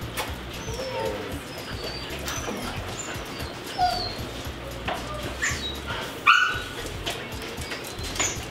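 Dogs in a group training session bark, yip and whimper in scattered bursts throughout, with one sharper, louder bark near the end, over steady background noise and faint voices.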